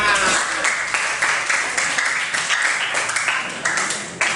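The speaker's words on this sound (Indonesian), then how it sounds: "Tepuk tangan" A classroom of students claps for a group that has just presented, giving a short burst of steady applause throughout with some voices mixed in.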